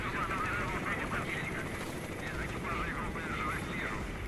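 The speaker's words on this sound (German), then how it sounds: "Da ist gerade ein Heli abgehoben." A helicopter's steady rotor drone and engine roar as it takes off in the game S.T.A.L.K.E.R.: Shadow of Chernobyl, constant and fairly loud, with muffled bangs mixed in.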